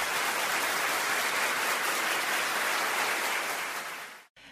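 A crowd at a Teochew opera music evening held for the Double Ninth festival in Chendian applauds in a dense, steady wash of clapping that fades out near the end.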